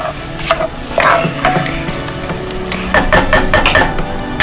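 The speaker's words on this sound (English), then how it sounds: "Now, while stirring, making sure every grain of rice is coated" Rice being stirred in a pan while coating every grain for a coconut cilantro rice dish, giving soft scraping and clinking of a utensil against the pan in irregular bursts, close and moderately loud with no talk.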